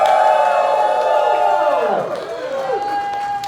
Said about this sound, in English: Throw your hands in the air, make some noise one time.